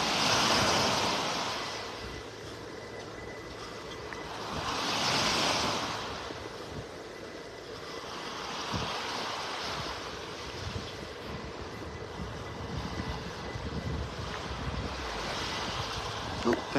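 Surf rolls onto a beach in North Naples, Florida, with broad swells of wash rising and fading every few seconds under steady wind noise on the microphone.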